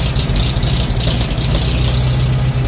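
A 1941 Farmall M tractor engine idles after a cold start at 20 degrees, a loud, close, steady low chugging with a slightly uneven knock and no voices.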